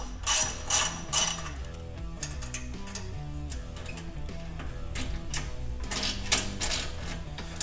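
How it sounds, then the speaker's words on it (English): A ratchet wrench works the exhaust clamp on a Dodge Challenger during a cat delete install, giving quick, close clicking bursts of pawl ticks with brief pauses between strokes. "now I can loosen the clamp."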